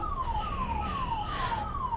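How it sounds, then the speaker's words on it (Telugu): Ambulance siren wailing in road traffic, a repeating falling tone sounding about every half second, steady and moderately near with no talk over it. "అంబులెన్స్ సైడ్ అవ్వట్లేదు వీళ్ళు"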